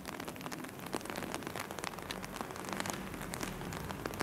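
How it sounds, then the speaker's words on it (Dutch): Heavy rain pours down steadily at a house under restoration, a dense close hiss of drops pattering on a surface with scattered sharper taps, no voices. "Het regent als het giet."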